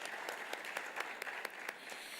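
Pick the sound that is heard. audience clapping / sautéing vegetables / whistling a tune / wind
audience clapping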